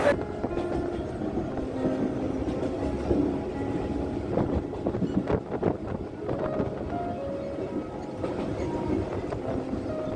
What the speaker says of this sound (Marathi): आपण पोचलेलो आहोत डोंबोली स्टेशनला आणि ट्रेनची वाट बघतोय ट्रेन आली की लगेचच निघू